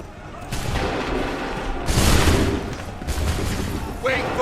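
Musket volley fire in the video game Assassin's Creed 3 Remastered, a few heavy overlapping booms from a line of soldiers rolling out over several seconds, loud and dense with a rough battlefield din.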